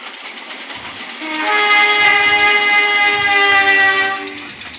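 A train hauled by a special locomotive on the KA Siliwangi service runs in as it brakes into Cibeber station, with a loud sustained whistle-like horn tone swelling and holding over steady rail rumble before easing off.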